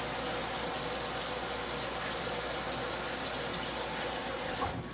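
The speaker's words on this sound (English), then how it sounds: "Turn off the water." Water runs steadily from a sink tap into a kitchen sink, a constant loud hiss and splash that stops abruptly at the end.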